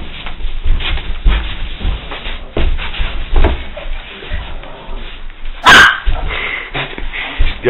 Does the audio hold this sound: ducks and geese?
no